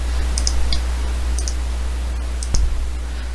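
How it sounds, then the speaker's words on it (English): Computer mouse clicking, a few small, sharp, close clicks spaced about a second apart over a steady low hum, with a slightly louder click near the end. "I'm going to click on it."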